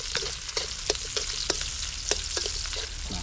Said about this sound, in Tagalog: Gigisa muna natin yung isda natin.